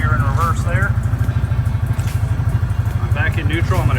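A Hisun Sector 550 UTV engine runs at a steady close idle with a rapid, even low pulsing, and someone talks over it throughout.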